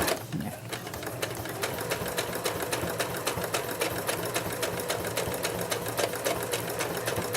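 A sewing machine stitches a line across a quilted potholder, a fast, even mechanical clatter running steadily and close throughout, with no one speaking.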